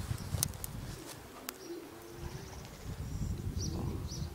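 Racing pigeons arriving at a loft after a flight, with low, soft cooing repeating close by, a few brief fluttering or clicking sounds and a quiet outdoor background.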